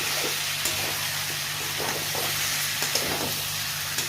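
Potatoes frying in hot oil in a pan, a steady close sizzle throughout with a few soft stirring scrapes and small pops on top, no talking.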